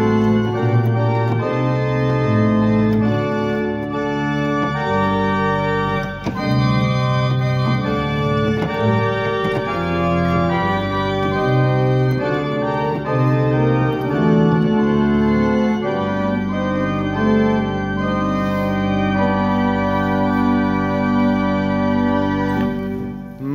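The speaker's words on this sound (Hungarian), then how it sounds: "A teljes tuttis hangzás így szól." Pipe organ in a church in Egyházaskesző played with full tutti registration, a dense, loud, sustained chordal sound with deep bass, changing chords throughout, no talk.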